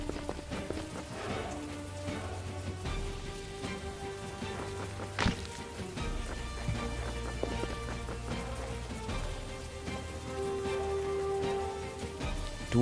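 Rain falling steadily through a night battle in a cemetery in a turn-based video game, a constant patter under game music with occasional sharp hits and clicks.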